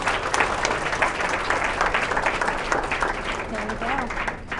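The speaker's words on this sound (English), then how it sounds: "let's give him a round of applause." An audience at a university presentation applauds, dense continuous clapping filling the room for several seconds and easing slightly toward the end, with a voice briefly heard under it.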